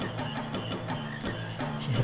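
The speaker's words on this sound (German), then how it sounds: "Okay, sind noch junge Frösche da." Frogs croaking in the Final Fantasy IX video game, a rhythmic series of repeated croaks at a steady pace, clear and close with no talk.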